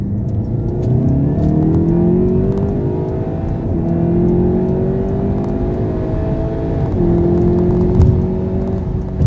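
Seat Leon Cupra ST 280 in Cupra mode, heard from inside while accelerating up a motorway slip road: the engine note climbs steadily through the gears with brief dips at each shift, loud and continuous, with no talking.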